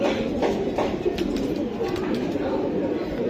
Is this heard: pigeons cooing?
yes